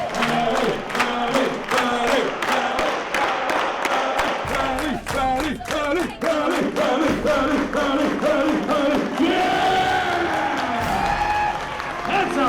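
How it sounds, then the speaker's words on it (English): A film crew on the set of The A-Team (2010) performs its rally clap: a crowd claps in fast, steady unison while voices chant together, loud and close throughout. "we do something on the set on the A-Team called the rally clap"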